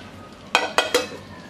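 Chicken pieces are mixed with lemon juice in a bowl, three quick wet squelching strokes close by, with quiet in between.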